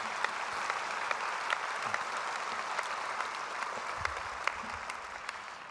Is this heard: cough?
no